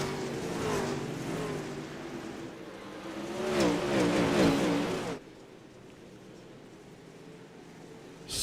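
Dirt late model race cars roar around I-55 Speedway, their engines droning loudly and surging mid-pass before cutting to a fainter, distant hum.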